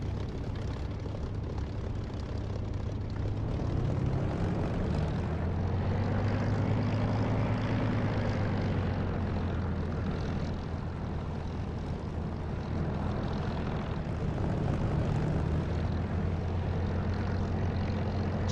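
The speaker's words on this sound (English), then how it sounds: "Okay, I'm good for takeoff now." Aircraft engine in a flight-sim video game such as DCS or War Thunder, a steady loud propeller drone at takeoff. The low rumble swells and shifts pitch slightly as the engine powers up, continuous and unbroken, without speech.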